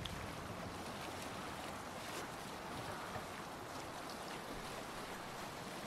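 Sailing ship gliding across open water in the Viking-era game Assassin's Creed Valhalla, a steady broadband wash of waves and wind running unbroken and moderately loud with no voices.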